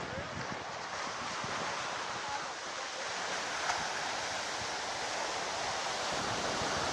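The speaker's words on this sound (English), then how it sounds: "So there's Ocean City, Maryland, the beach and everything here at Ocean City, Maryland, and the boardwalk." Steady broadband wash of ocean surf rolling onto the beach at Ocean City, Maryland, continuous and fairly loud with wind buffeting the microphone, no distinct individual wave breaks standing out.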